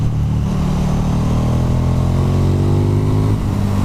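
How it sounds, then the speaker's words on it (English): A 2017 KTM 1290 Super Duke R motorcycle accelerating hard, its big V-twin engine note climbing steadily in pitch as it pulls out of a bend, loud and close with continuous wind rush. "the instant power, the torque you have to pull you out the corners is truly incredible"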